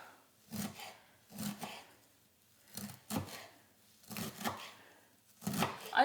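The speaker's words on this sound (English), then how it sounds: "Chop the dill." A knife chops fresh dill on a board for a cold pink soup, giving close, soft thuds in short rhythmic bursts separated by brief pauses.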